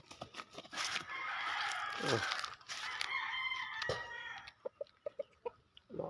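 Backyard chickens and a rooster in a small home poultry pen, clucking and crowing close by, with a long crow rising over chatter and a run of short sharp clucks near the end; a voice briefly speaks.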